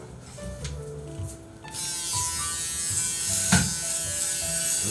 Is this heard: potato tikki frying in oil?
no